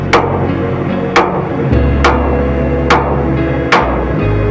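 Heavy metallic hammer strikes driving a cylinder liner into a Caterpillar 3512 diesel engine, five evenly spaced blows about a second apart, ringing close by over a low background hum.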